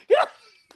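A dog gives a single short bark, sharp and fairly close, followed by quiet.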